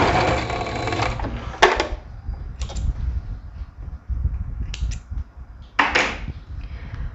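Sewing machine stitching a neckline facing where it meets the shoulder seam, with a backstitch: several close, rapid bursts of stitching separated by short pauses and light handling noise.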